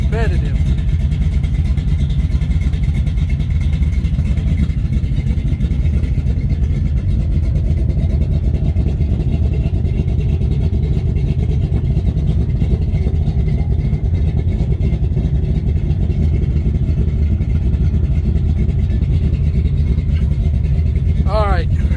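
A 1974 Chevrolet Caprice V8 runs loud and close, its deep steady engine rumble holding throughout with rising rev swells, while a voice talks over it at points.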